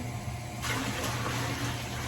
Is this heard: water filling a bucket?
yes